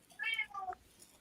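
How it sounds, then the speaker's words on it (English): A cat gives a brief, faint, two-part meow in the background of a quiet room. "Sorry for the cat in the background."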